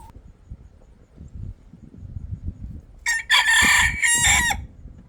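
A few clucks sound faintly at first, then a rooster crows loudly and close, one drawn-out call in a small backyard coop of young chickens.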